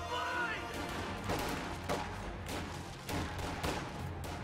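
Riflemen fire on grenadiers holding a house in a real-time strategy game, with dense, continuous gunfire and muffled battle thumps ringing out loudly throughout.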